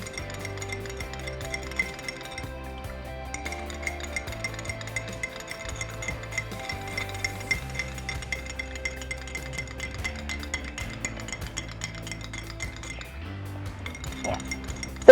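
A spoon clinks against a glass in quick, repeated light taps while aloe vera gel hand sanitizer is stirred, close and clear over a soft background bed of music.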